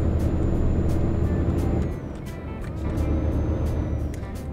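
A heavy truck engine drones steadily as it climbs a hill in Euro Truck Simulator 2, loud and close, easing off slightly partway through and then building again.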